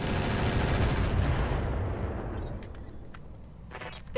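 Heavy mech weapons firing in the game Roguetech, a loud dense barrage of booming gunfire that fades into a rumbling tail, with brief clatter afterward.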